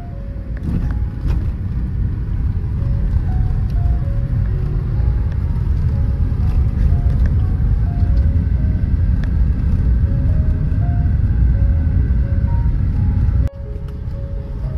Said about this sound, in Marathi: या दिघा विभागात नेहमी ट्रॅफिक असते